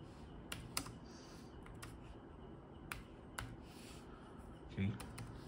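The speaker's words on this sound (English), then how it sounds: "Let's see, I'm typing now." Typing on a Logitech K380 wireless keyboard: scattered, soft key clicks at an irregular pace, quiet and close, with a faint background hiss.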